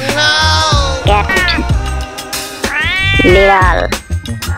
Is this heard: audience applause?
no